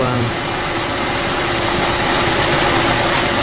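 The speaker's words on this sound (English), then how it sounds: "Okay, engine's running now" A petrol Audi with a seven-speed gearbox and faulty transmission control unit idles close by, a steady, loud, even engine drone that runs unbroken throughout with no speech over it.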